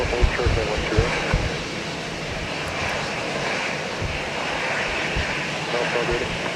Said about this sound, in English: here goes Delta 164 Heavy off to AMS